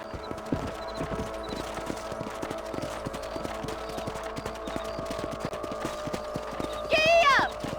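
Horse hooves clip-clopping at a steady, brisk rhythm in the Red Dead Redemption video game, with a horse whinny near the end over the ongoing hoofbeats.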